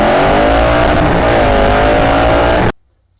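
Triumph bobber motorcycle engine revving loudly and close, a steady throaty roar with rising and falling pitch that cuts off abruptly near the end, leaving silence.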